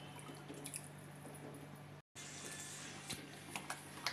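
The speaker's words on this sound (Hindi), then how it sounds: "हमारी हलवा पक रही है, इसमें बॉईल आ रहा है" Lapsi halwa bubbles in a pan on the stove, a faint close simmer with soft irregular pops and drips, interrupted by a brief cut, with no talk.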